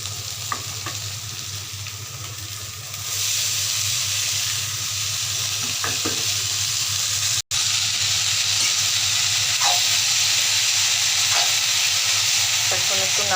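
Water spinach leaves hiss and sizzle in a hot pan seasoned with salt and turmeric, a steady broadband frying roar that swells louder after a few seconds, with faint scraping stirs, no talking.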